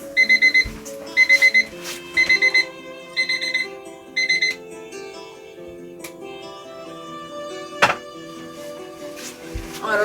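An alarm clock rings in the video game Gacha Life 2, loud repeated electronic beeping in short bursts over steady background game music, with the beeps stopping partway while the music continues.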